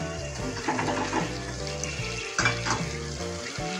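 Fried potatoes and soya chunks sizzling together in a pan for a curry, a loud continuous crackle with stirring scrapes and a faint tonal hum running underneath.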